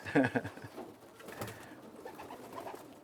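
Racing pigeons coo in soft, throaty bursts nearby, with a louder cluster at the start and then a fainter murmur of cooing and loft noise.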